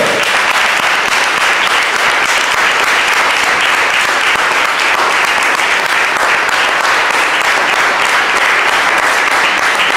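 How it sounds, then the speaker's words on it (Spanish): Church congregation applauding during a sermon, loud continuous clapping from a large crowd, steady and unbroken for the whole stretch. "Dale un fuerte aplauso al Señor."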